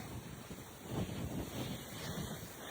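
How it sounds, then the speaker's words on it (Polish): Steady wind rushes and buffets against the microphone, a continuous breathy roar with gentle swells and no talking. "I trochę słabszy wiatr"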